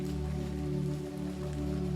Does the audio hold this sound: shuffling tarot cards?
no